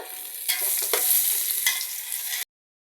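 Boiled mutton sizzles in a pot as masala is added and stirred, a close, steady frying hiss with a few scraping stir strokes, stopping abruptly after about two and a half seconds.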